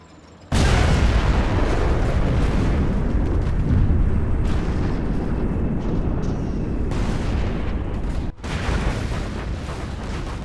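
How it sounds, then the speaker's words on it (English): A nuclear missile strike in the Generals Evolution strategy game erupts into a massive, sustained roaring blast that starts abruptly and rumbles on loudly for several seconds with a brief dip near the end. "The nuclear missile is going to hit here"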